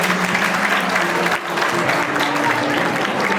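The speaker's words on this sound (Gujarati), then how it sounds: "આપણે સૌ એને તાળીઓના ગડગડાટથી એમને આવકારીએ" An audience at a folk dayro gathering breaks into loud, sustained applause to welcome a guest, dense clapping from many hands with a brief dip midway before it carries on.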